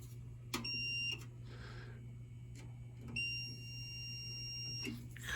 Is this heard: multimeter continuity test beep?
yes